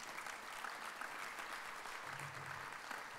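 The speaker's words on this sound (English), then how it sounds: "let's give them a round of applause." An audience at a university theatre season announcement gives steady, continuous applause throughout, fairly soft and even.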